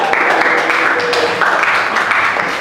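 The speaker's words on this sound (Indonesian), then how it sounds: "Tepuk tangan." Audience applause during an Islamic preaching class session after a winner is announced, loud, close clapping filling the whole clip with a dense, steady texture and faint murmuring beneath.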